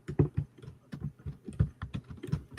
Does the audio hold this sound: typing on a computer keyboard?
yes